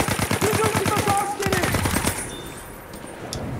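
An assault gun in the video game Battlefield 1 fires a fast automatic stream of shots for about two seconds, then stops, leaving a fading echo and quieter battlefield ambience.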